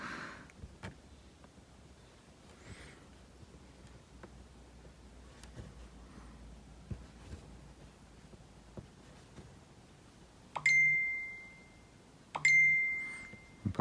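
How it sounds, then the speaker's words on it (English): A phone gives two short electronic notification chimes, each a bright sustained tone about two seconds apart, near and clear over a quiet room with faint rustling and small handling taps beforehand. "Oh, that's my phone"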